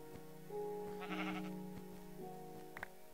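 A sheep bleats in the video game Minecraft: a few short, wavering bleats over a faint, steady background hum, with no talking.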